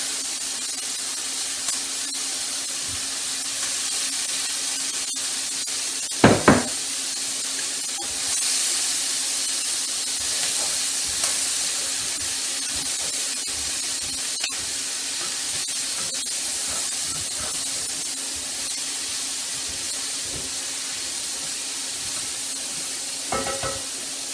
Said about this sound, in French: Maintenant, je vais faire cuire les légumes, toujours sans rajouter de gras, de matière grasse